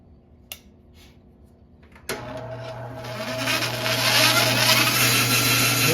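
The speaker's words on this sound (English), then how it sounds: "So I'll turn the bandsaw on." A woodworking bandsaw switched on in a workshop for cutting a coaster blank: a click, then the motor starts with a sudden jump and spins up into a loud, steady hum and whine that builds and holds.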